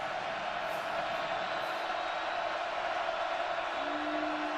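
A football stadium crowd at Kansas State roars in a sustained, dense wash of cheering and whooping, steady and loud throughout without any clear break.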